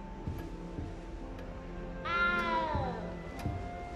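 A cat meows once in the video game Hogwarts Legacy, a clear, fairly close mew with a falling pitch, set against a soft, steady game ambience.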